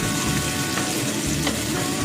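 Pork ribs adobo sautéing in a pan, a loud, steady sizzle with a few stirring scrapes and no voices.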